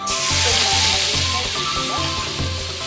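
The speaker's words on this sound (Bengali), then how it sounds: "এবার আমি কাঁচা লঙ্কা আর তেজপাতা, দেখো কাঁচা লঙ্কাটা ভাজা ভাজা হয়ে গেছে" Green chilies and bay leaves fry in hot oil with a steady, loud sizzle and hiss, a close continuous crackle while vegetarian soybean-potato curry is being cooked, with a faint low hum beneath and no talking.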